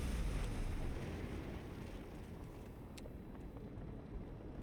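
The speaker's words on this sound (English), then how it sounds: "Those engines do sound cool." Spaceship engines in a space adventure game hum as a steady broadband rumble with airy hiss, loud at first and easing slightly, with a few faint clicks near the end.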